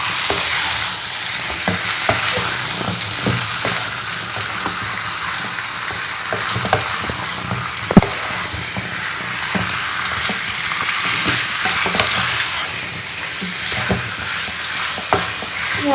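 Washed chicken pieces fry with masala in a pan for chicken vindaloo, a dense continuous sizzle like rain heard close up, with occasional stirring knocks and one sharp clack, and nobody speaking.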